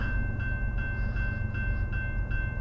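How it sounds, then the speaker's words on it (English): A freight train labors along on nearby tracks by a mountain, with a steady heavy rumble and regular rhythmic clicks of wheels over rail joints, loud and continuous with no voices. "that thing sounds like it's laboring along pretty good there too"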